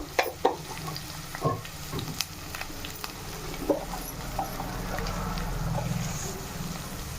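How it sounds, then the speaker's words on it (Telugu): Onions and green chillies with turmeric and salt sauté in a pan for a prawn curry, with a steady close sizzle and sharp scraping knocks of a spoon stirring early on, no talking. "కొద్దిగా ఉప్పు ఇవన్నీ వేసుకుని ఒకసారి బాగా కలిపేసి ఉల్లిపాయలు మగ్గించుకోవాలి"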